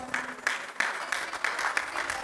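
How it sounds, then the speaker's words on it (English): Audience at a school Independence Day celebration claps for young sports stars, a short stretch of crowd applause with distinct clap peaks standing out from the steady patter. "Let's give a huge round of applause for these young sports stars"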